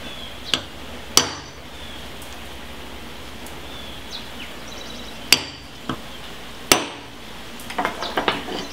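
A punch is struck to mark a nut and casting: a few sharp, isolated metallic taps spaced seconds apart over a steady background hiss, with a cluster of smaller clinks near the end and no talking.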